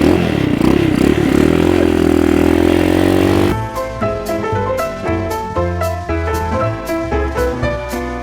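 A Harley-Davidson motorcycle engine while riding, revving loudly with a steady drone, then dropping into a lower, pulsing rumble after a gear change, with no talk over it.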